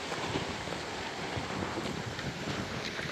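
Steady wind ahead of rain roars across the microphone with a constant rushing hiss, broad and unbroken, with no voices present.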